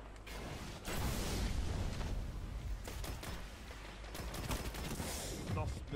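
Full-auto gunfire from the Suros Regime rifle in the Destiny video game, a sustained rattling stream of shots with clicks and mechanical creaks over a few seconds.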